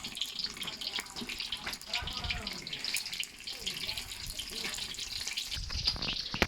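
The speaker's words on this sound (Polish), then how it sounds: "Właśnie się tu smaży." An egg fries in a hot pan, sizzling and crackling steadily, a constant close hiss with faint kitchen clatter and running water in the background.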